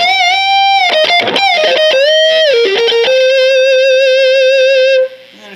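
Mesa Boogie Mark III Simul-Class amplifier on its lead channel with high drive, a guitar playing a smooth, creamy distorted solo line of sustained singing notes and bends, loud and close, ending abruptly.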